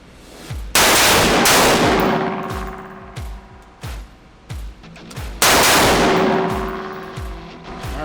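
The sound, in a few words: rifle shots in bullpup chassis at shooting range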